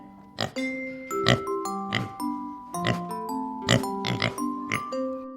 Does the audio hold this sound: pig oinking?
yes